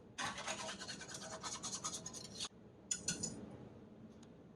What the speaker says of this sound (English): I'm just whisking it and getting all the little bits up off the bottom of the pan